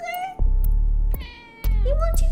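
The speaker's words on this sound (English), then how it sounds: "My cat has graced us with his presence." A pet cat meows loudly and close by, giving several drawn-out meows with brief gaps between them, while low background rumble sits underneath.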